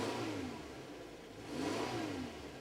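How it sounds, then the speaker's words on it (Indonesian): Revving of a 2022 Subaru Forester boxer engine, two rising-and-falling throttle blips over a steady idle, close and fairly loud with no talk. "Kita gas dulu."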